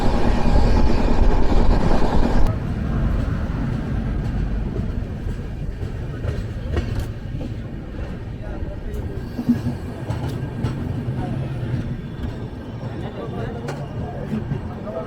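Rumble and rattle of the Gurudev Express (12660) running along Chilika Lake in Odisha, a steady low roar with wind buffeting, louder in the first two seconds and then continuous with occasional clicks.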